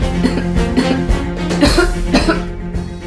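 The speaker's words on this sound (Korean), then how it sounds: "한 번 시작하면 보통 10분 이상 지속되는 기침." Repeated harsh coughing in quick bursts, close and loud, one fit running into the next without pause.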